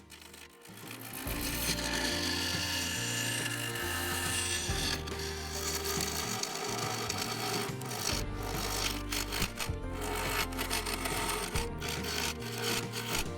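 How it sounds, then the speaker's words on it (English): A mid-sized carbide tool roughs out the rim of a walnut and epoxy resin turning on a lathe, cutting into the epoxy and waste block. It gives a steady, loud scraping and rubbing under a low, pulsing mechanical drone, with no pauses. "Using the mid-sized carbide, I began roughing out the rim, cutting down into the epoxy and waste block."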